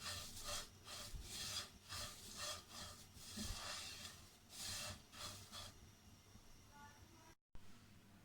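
A spoon scrapes and rubs steadily through oats dry-roasting in a pan on the stove, a close rhythmic scratching that slows and fades toward the end.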